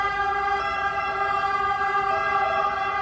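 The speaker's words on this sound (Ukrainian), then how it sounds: "приїжджає швидка допомога" A wailing ambulance siren arrives at a park, sounding steadily and fairly loud throughout, with no talking over it.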